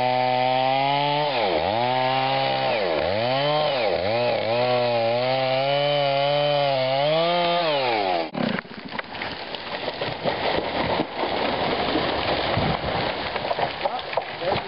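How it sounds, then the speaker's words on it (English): Chainsaw revving repeatedly while cutting through a poplar's hinge in a February logging job, then a broad rushing crash of the tree falling, with branches and debris crackling for several seconds. "we're ready to release our hinge, let the tree fall"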